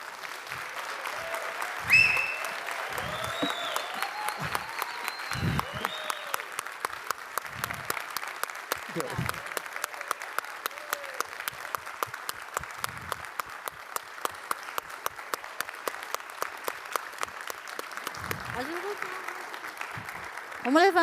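Church audience applauding steadily for about twenty seconds, a dense continuous wash of clapping with voices talking and calling out over it at moderate distance.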